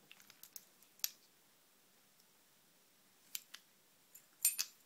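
Small metal keys for an old American 1105 series padlock jingle and click as they are handled, a few faint scattered clinks and a brief louder rattle near the end, with no talk.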